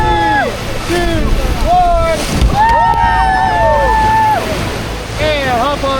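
A whitewater raft spins on a rock in the Nantahala River, rushing water and wind noise running steadily under loud, excited voices that shout and cry out throughout.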